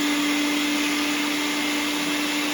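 An electric meat grinder churns chunks of beef chuck for hamburger on a coarse first grind, a loud, steady motor drone with a strong constant hum, close and uninterrupted, with no talking.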